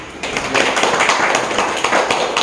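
An audience at a photography exhibition talk event in Busan applauds photographer Kwon Il, producing a dense wash of clapping that is fairly close and loud and keeps steady to the end.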